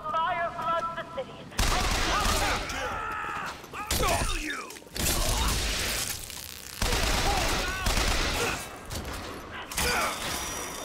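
Bursts of gunfire ring out in BioShock Infinite, sharp shots and crashing impacts clustered in loud flurries between brief lulls, with a voice talking over parts of the action.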